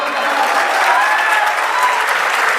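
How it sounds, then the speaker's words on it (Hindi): Loud, sustained applause from a large crowd, dense clapping continuing steadily throughout with no pauses. "एक बार सारे मिलके इसके लिए जोरदार तालियां बजा दो।"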